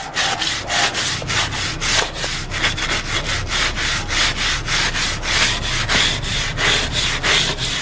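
A small brush scrubbing beige bathroom tile grout in quick, rhythmic back-and-forth strokes, loud and close, a steady rasping scrub that continues throughout with no talking.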